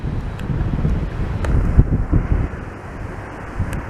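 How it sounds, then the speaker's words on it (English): Strong wind buffets the microphone on a bridge in Blackpool, a loud, rumbling roar that swells and eases for a few seconds with no voices. "it's windy"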